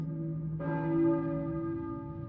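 Church bell ringing out at dawn in the video game Silent Hill, a single sustained, resonant peal that swells and hangs on with a long humming decay, heard clearly with no talking.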